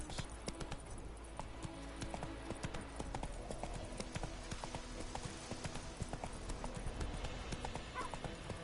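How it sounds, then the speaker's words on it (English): Horse hooves clip-clop in a steady galloping rhythm in The Witcher 3 video game, close and continuous over game ambience, with a brief whinny. "Not so fast, Roach. Giddy up"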